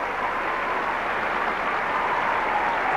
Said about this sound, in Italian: Questo applauso sottolinea il grande scambio vinto da Gabriela Sabatini